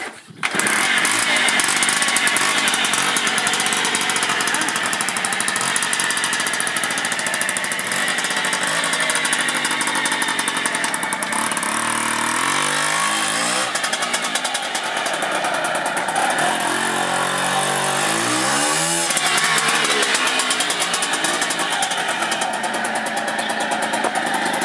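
A Yamaha PW80 dirt bike engine runs close by at a steady buzzing idle for most of the stretch, with a few brief throttle blips in the later half.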